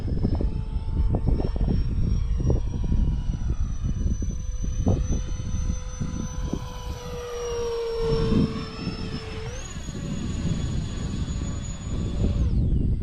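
FMS A-10 model jet's twin engines whine and roar steadily with a high-pitched tone that bends and rises as it maneuvers; loud and close, with no talking.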